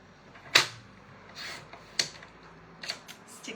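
Paper being cut for a 6x6 card layout: a few short, crisp snipping or slicing strokes, spaced unevenly over a few seconds, close and fairly quiet with no voices.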